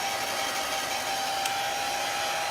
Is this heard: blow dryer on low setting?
yes